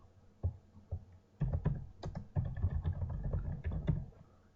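Quiet typing on a computer keyboard, a few isolated key clicks and then a steady run of close, soft tapping, with no talk.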